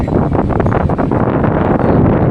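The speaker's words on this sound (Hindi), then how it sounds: "कितनी जबरदस्त हवा चल रही है" Strong outdoor wind blowing sand and flinging cardboard about, heard as a loud, close, continuous rumbling roar that buffets the microphone without a break.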